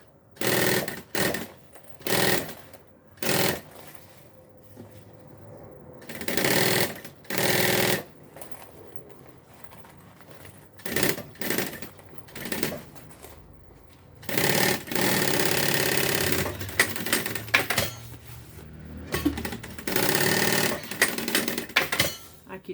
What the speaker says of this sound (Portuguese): Vou costurar o meu forro ao meu material do painel, que é o fole.